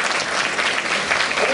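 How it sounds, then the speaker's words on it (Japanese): An audience at the Turtle Talk show in Tokyo DisneySea breaks into brief, lively applause, a dense wash of many hands clapping at once, loud and continuous with no voices. "みんな拍手だ。"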